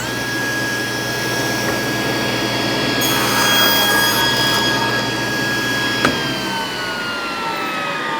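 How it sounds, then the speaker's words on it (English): A table saw runs steadily through a crosscut in wood, a loud continuous whine and blade hum that swells mid-cut, then a brief knock near the end as the motor begins to wind down with a falling pitch. "So this would be a safe way to make a crosscut."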